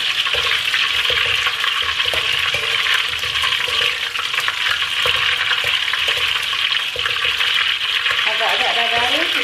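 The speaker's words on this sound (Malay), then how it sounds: "Kita goreng dulu cili kering." Dried chillies fry in a pan of hot oil over lowered heat, giving a continuous loud sizzle with stirring clatter throughout and faint voice sounds near the end.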